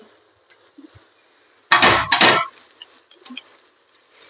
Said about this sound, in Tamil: 2 எக்கு உடச்சு போட்டாச்சு